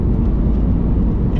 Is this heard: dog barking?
no